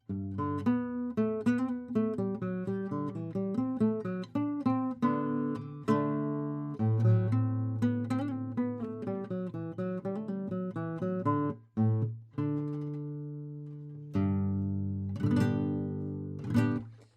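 Plucked nylon-string classical guitar, a Gretsch Hauser, plays a warm, mellow melody with chords, notes ringing and decaying, alone without talk.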